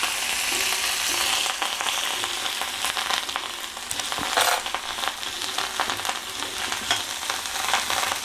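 Fresh home-grown curry leaves and peanuts fry in a pan with a loud, steady crackling sizzle, punctuated by occasional stirring scrapes and pops throughout, with no talking.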